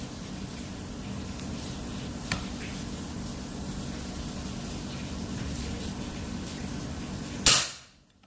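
A Predator folding PCP air rifle (ATAMAN, Monel, 3500 psi, 40 cm Yumaja multi-slug barrel) fires a Hercules pellet on a medium setting at about 20 metres: one sharp, close report near the end over steady outdoor hiss, then abrupt quiet.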